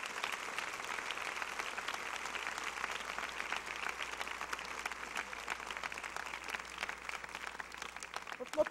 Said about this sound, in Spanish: Denle otro fuerte aplauso al Señor